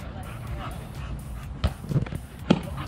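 A dog at a family eclipse-viewing gathering gives a few short barks and yips amid excited people talking, with the sharpest bark near the end.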